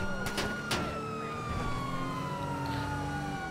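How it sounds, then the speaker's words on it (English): A police car siren in GTA V wails with rising and falling tones over a steady engine rumble, loud and continuous, with a couple of sharp bursts early on. "Turn the sirens on."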